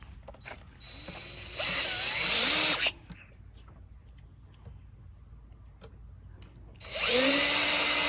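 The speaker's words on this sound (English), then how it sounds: "can you hand me the drill over there?" A power drill drives a stainless steel screw into an outdoor table in two loud, close bursts of rising whine: one of about a second, then a quieter pause of small handling clicks, then a second burst.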